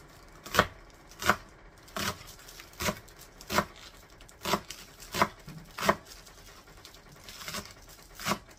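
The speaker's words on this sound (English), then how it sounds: "And then you need a bunch of green onions chopped." Green onions being chopped with a knife on a cutting board, about a dozen crisp, evenly spaced chops close up, each a sharp knock with a short scrape.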